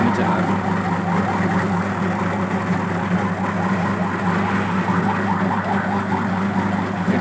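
An Abdullah AE221 5kg dough kneader runs with a steady, continuous motor drone and hum that holds at an even loudness throughout.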